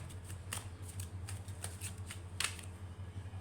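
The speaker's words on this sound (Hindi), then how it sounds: "देख रहे हैं आप लोग इतने 12-13 कार्ड्स जो है वो," Tarot cards being shuffled by hand, a quiet run of crisp riffling flicks and soft slaps repeating at an irregular pace over a faint low hum, close and without speech.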